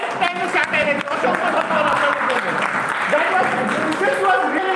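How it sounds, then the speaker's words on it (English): People at a teacher induction training session give a round of applause, clapping moderately loud and continuous, with voices mixed in over the clapping. "Can we give a big round of applause for Didi?"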